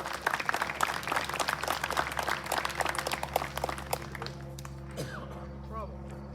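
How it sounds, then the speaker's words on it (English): Audience applause at a Sons of the American Revolution gathering honoring Nancy and Ed at New Jerusalem Lutheran Church, dense clapping with voices mixed in, thinning toward the end. "could I have a big hand of applause for Nancy and Ed?"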